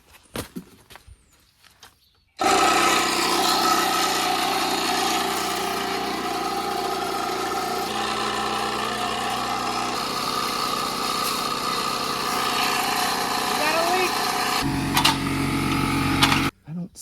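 A small engine drives the pump on a farm sprayer, building pressure in the tank with a steady, loud mid-pitched drone that holds for about fourteen seconds after a quiet start, then cuts off abruptly.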